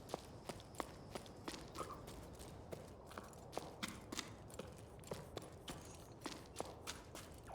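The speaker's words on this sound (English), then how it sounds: "I'm talking about the way the footsteps sound." Footsteps in the video game Jusant fall in a steady walking rhythm, crisp close thuds over a soft airy background bed.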